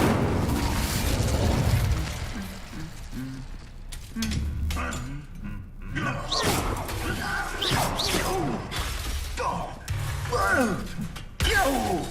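An Incendio fire spell is cast in the video game Hogwarts Legacy: whooshing bursts of flame and crashing impacts come in uneven clusters, some loud and close, amid other game sounds.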